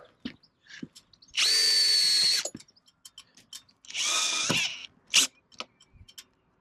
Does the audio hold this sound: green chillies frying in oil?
no